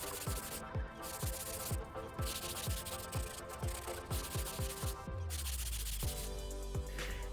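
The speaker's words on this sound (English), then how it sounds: "I'm going to sand this down" Sandpaper rubs back and forth along a wooden axe handle, a close, rhythmic series of rasping strokes roughly twice per second, each a quick scratchy swipe, no voices.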